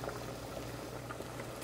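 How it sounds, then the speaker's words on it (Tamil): A pot of rasam with tamarind simmers on a home stove in a steady, low bubbling boil that stays close and even throughout, with no talking over it. "இது நல்லா கொதிக்குதுங்க."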